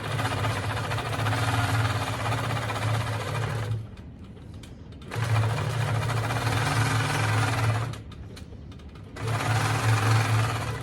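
A Handi Quilter longarm quilting machine stitches a tote bag, its fast steady needle hum running in loud bursts separated by two brief pauses.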